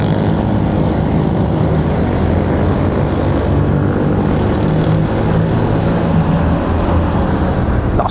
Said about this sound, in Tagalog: Lakas umahon ang motor natin ngayon guys.